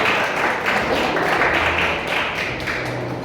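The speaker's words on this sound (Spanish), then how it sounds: "Dale un aplauso fuerte al Señor, porque es maravilloso." A church congregation claps loudly for the Lord during a Spanish-language service, a dense, sustained wash of applause from many hands that stays full and even from start to finish.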